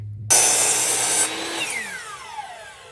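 Power saw cutting lumber at a 30 degree angle for a firewood cutting jig: a sudden loud broadband rip starts near the beginning and holds steady, then the blade winds down with a falling whine.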